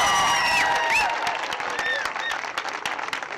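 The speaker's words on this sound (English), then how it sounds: "Let's give another round of applause for Traci" Audience at a school ribbon cutting and community celebration breaks into applause, dense clapping with whistles and a few cheers, loud at first and tapering slightly over a few seconds.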